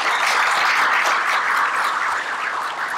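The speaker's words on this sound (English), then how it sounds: "We'd also like to thank our premier sponsor, Binkley & Barfield DCCM. Round of applause," Audience at a North San Antonio Chamber State of Energy luncheon applauding a premier sponsor, a full, sustained burst of many hands clapping together, loud and even, easing slightly near the end.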